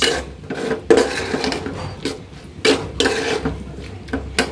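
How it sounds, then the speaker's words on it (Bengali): Potatoes are mashed by hand for aloo chop in a home kitchen, a close, uneven rubbing and squashing with scraping bursts and short pauses, with no talking. "এই যে আলুর চপ বানাবো, তাই এই যে আলু ভর্তাটা আগে করে নিচ্ছি"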